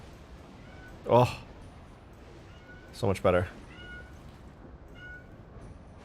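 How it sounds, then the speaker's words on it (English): A cat lets out two loud, strained meows, one near the start and a double cry a couple of seconds later, close by in a quiet room while a person speaks briefly. "Please tell me that none of you can hear my cat screaming right now."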